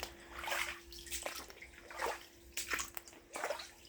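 Water sloshes and splashes in a basement flooded about four inches deep after heavy rain, with faint, intermittent swishes and drips occurring every second or so under a low electrical hum.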